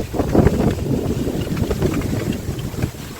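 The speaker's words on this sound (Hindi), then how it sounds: "गाइज देखो कितनी तेज़ हवा हो रही है" Strong wind during a rainstorm in a village buffets the microphone in a steady low roar, with gusty surges throughout and no voices.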